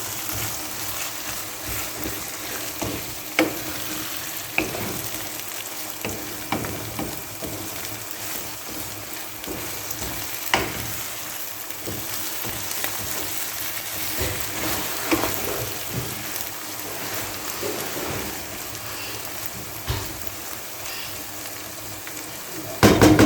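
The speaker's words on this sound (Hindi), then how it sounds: "अच्छी तरह मिक्स करेंगे और हल्की आंच पे 10 से 15 मिनट के लिए इसको डाम के पकाएंगे" Kachnar buds and minced meat simmering covered on low heat in a pot, giving a steady soft sizzle and bubbling crackle with scattered small pops, continuous and close, with no talking.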